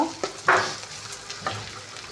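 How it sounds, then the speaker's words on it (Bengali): Whole bay leaf, cinnamon, cardamom and cloves frying in hot oil for moong dal, with a soft steady sizzle and a few stirring scrapes, close and moderate, with nobody talking. "যেমন তেজপাতা, দারচিনি, এলাচ, লবঙ্গ, সাদা এলাচ, কালো এলাচ, এগুলো দিয়ে একটু কষায় নিব।"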